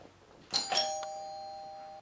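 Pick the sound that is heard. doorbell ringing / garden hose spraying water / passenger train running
doorbell ringing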